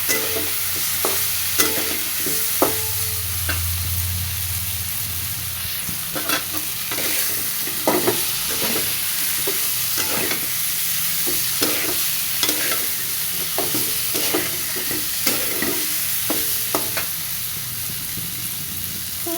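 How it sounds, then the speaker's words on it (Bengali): Fried potatoes, pointed gourd and soy chunks being stir-fried together in a pan, giving a steady loud sizzle under repeated scraping and stirring knocks from a spatula, close up and with no talking. "ভেজে রাখা আলু, পটল, সয়াবিন দিয়ে দিব। দিয়ে একসাথে ভালো মতো কষায় নিব।"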